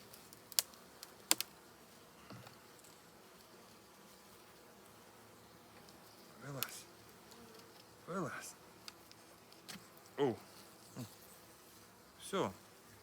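Bees at a hive made of polyurethane foam, giving several brief buzzing passes as individual insects fly close by, over a quiet background with a few sharp clicks.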